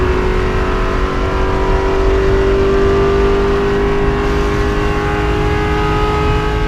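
Race cars rounding Billy Mitchell Bend, turn 13, during a circuit race, with engines holding a loud, steady, sustained drone close by and no voices.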